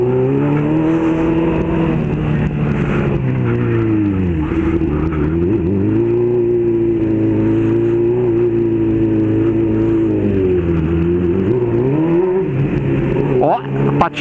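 A motorcycle engine hums and revs as the bike rolls into a shopping mall, pitch rising and dipping with throttle, ending in a sharper rev.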